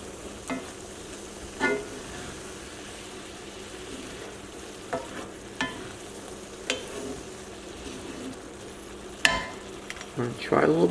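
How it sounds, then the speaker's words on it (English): Mushroom and lentil ragù in a cast iron pan, with the burner off, hisses with a low residual sizzle while a utensil scrapes through it in occasional strokes, close and moderately loud. "Mix everything together."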